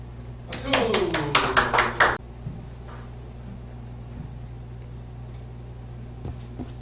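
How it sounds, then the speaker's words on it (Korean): An audience at a lecture breaks into applause, about seven loud, evenly spaced claps over a second or two, then gives way to quiet room tone with a faint tap later on. "박수!"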